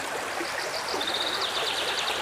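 River water flows over rocks in a steady, close rushing babble, with faint bird chirps above it.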